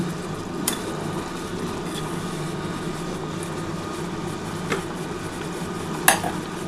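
Bhola fish pieces go into a boiling curry of potato, onion and tomato; a steady bubbling simmer runs throughout, broken by a few sharp metallic clinks of a utensil against the pot.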